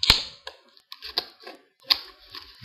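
A few crisp snips and clicks of scissors cutting, close up and intermittent, with brief quiet gaps between the sharp metallic strokes.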